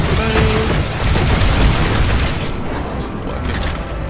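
Gunfire in Halo 2 Anniversary during a fight against the Flood, a dense rapid volley of booming shots and blasts, loud and sustained, easing slightly toward the end.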